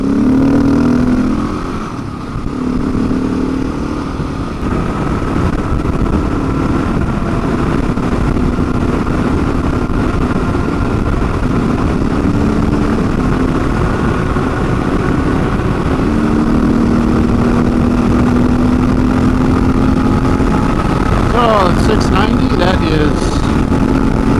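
A KTM 690 single-cylinder motorcycle engine, under 400 pounds with close to 70 horsepower, holds a steady close, loud idle with a droning tone and a short rev near the start, continuous throughout.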